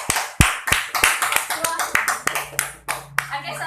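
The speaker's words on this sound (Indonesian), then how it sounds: "Tepuk tangan buat Ina." A classroom claps for a student, sharp hand claps in a quick, fairly steady rhythm, close and distinct rather than a dense wash of applause.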